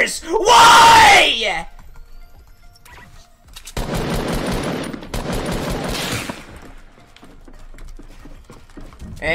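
Rapid bursts of automatic sniper fire in the video game Fortnite, a loud harsh volley near the start followed by dense crackling gunfire and scattered sharp shots, with speech mixed in.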